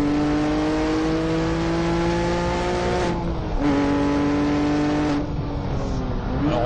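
A Porsche 911 GT3 engine revs loudly and continuously with a high-pitched whine, the pitch climbing then dropping at two gear shifts, close and sustained.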